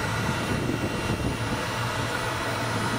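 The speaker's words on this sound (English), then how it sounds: "What I'll do is I'll light that with an electric starter." An electric starter aimed into a smoker tube filled with wood pellets, on a pellet grill used for smoking turkey, gives a loud, steady, close blowing roar that holds without a break and with no talking.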